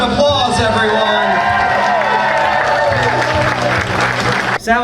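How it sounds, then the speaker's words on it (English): Wedding reception guests break into loud, steady applause for the newlyweds, dense clapping with some cheering and whoops, continuous until a brief bump near the end. "Give them a round of applause, everyone."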